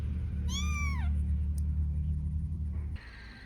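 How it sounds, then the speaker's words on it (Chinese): A pregnant stray cat lets out one clear meow that rises and then falls, close by, over a steady low background rumble. "小猫咪"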